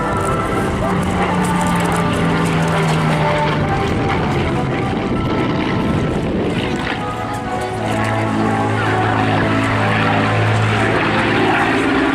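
Supermarine Spitfire Mk9 flying at the Eastbourne airshow, a loud, sustained propeller-engine drone that shifts in pitch as it passes, with a narrator talking over it throughout.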